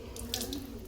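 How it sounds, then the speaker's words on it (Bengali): Tap water runs steadily into a sink while hands are rinsed under it, a soft continuous splash with brief brighter bursts, close by and fairly quiet, no talking. "হাতটা ধুয়ে নি।"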